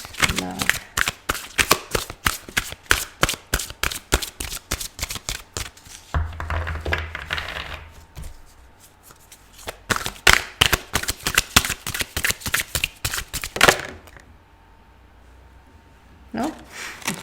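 Tarot cards are shuffled close to the microphone in quick riffling bursts, then paused and shuffled again. A voice can be heard talking faintly in between.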